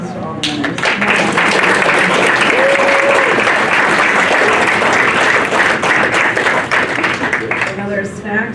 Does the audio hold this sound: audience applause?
yes